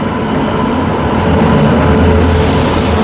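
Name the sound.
train pulling into the station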